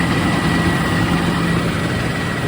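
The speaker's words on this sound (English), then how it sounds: "So I've been backing off the revs, just lowering the idle a little bit" A Rover SD1 engine idles at lowered revs after a spark plug and HT lead change, a loud, steady, close-up drone with an even mechanical hum and no voices.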